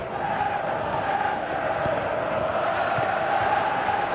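A steady, dense roar of a stadium crowd in the football video game PES 2017 holds at an even level throughout, broad and distant-sounding, with no distinct individual voices.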